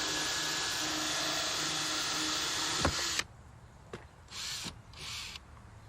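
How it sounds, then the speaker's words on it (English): A power drill bores a drainage hole through a plant pot, a steady loud whir for about three seconds, then stopping abruptly, followed by a few short quieter bursts and clicks. "You get a little indent into the pot there, so it stays very secure when you're drilling down"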